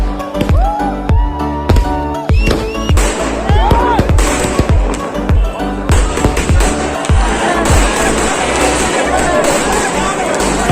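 Firecrackers bursting at a Diwali celebration in Kota, loud sharp bangs and crackles in rapid succession with whistling rockets, amid crowd noise and voices throughout.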